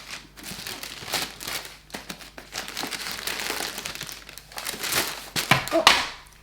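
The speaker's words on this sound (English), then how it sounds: "Always has the white tissue paper inside the box." White tissue paper crinkling and rustling close up as it is handled inside a Hermès bag box, a steady run of crisp crackles and rustles that grows louder toward the end.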